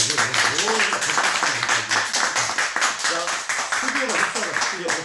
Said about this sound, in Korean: 끝은 우리 방청객 100분의 박수 소리로 엔딩하겠습니다